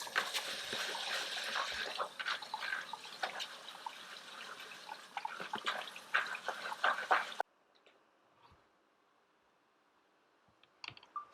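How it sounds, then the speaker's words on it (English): Jasmine rice being rinsed in water, a busy close wash of splashing and clicking grains that stops abruptly partway through, leaving near silence with a few faint drips and knocks. "we'll rinse the rice"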